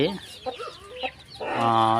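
A brooding hen clucks nearby in a poultry setting, a series of short, uneven clucks followed by a longer, sustained call near the end, with a voice talking faintly in the background.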